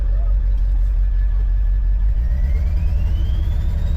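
An old, rusty 7.3 diesel truck engine runs roughly under throttle, as if missing cylinders; a loud, close, uneven low rumble holds steady throughout.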